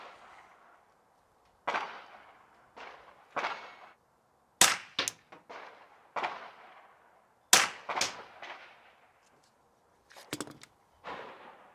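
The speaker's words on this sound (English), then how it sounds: "next, we're going to fire the simunition blanks" Simunition blank rounds are fired near a gunshot sound box, about a dozen sharp loud cracks in uneven single shots and quick pairs, each with a short decaying tail and silence between.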